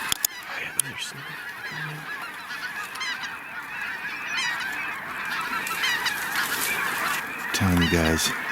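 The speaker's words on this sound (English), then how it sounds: "Get these geese right here." A large flock of snow geese calls while flying overhead, a thick, continuous mass of overlapping honks with a few nearer, louder calls toward the end.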